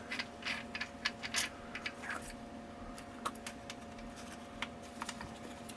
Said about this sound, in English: And you can unscrew the emitter.